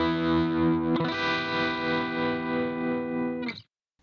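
Sustained distorted electric guitar chord through the tremolo of a Leo Jaymz Silverbox multi-effects pedal, pulsing in a steady gentle throb before a final strum cuts off.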